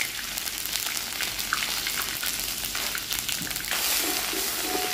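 Pounded green bird's eye chilies sautéed in hot oil, with a steady close frying sizzle and crackle that swells near the end as the pan is stirred.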